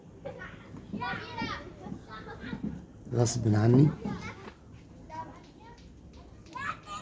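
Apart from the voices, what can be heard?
children playing in the street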